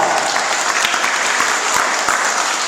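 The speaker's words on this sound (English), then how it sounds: "Give her a big round of applause!" A school assembly audience applauds a girl called up as a helper, a dense, steady wash of many hands clapping at close range, even and unbroken throughout.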